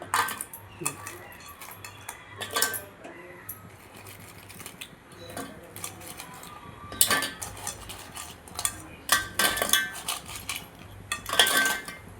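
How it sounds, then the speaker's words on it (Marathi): Crabs dropped into a pot of crab curry broth, with scattered metallic clinks, clatters and scraping of pan and utensils, some sharp bursts and quieter stretches in between. "आता ह्यामध्ये आपण खेकडे सोडतोय।"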